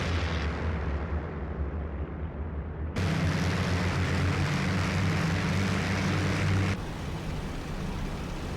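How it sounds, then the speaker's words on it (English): Propeller aircraft engines from the flight combat game IL-2 Great Battles, featuring a P-51B Mustang, form a loud, continuous droning roar with a deep rumble, and the tone shifts abruptly partway through. "The IL-2 sound engine, it really shines when you have a lot of planes in the air at once."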